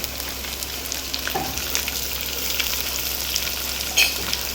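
Chopped onions and potatoes fry in a pan for chapati curry, giving a steady broadband sizzle with occasional stirring scrapes and a brief louder clatter near the end.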